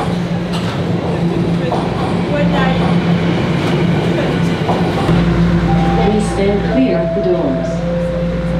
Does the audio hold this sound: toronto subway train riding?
yes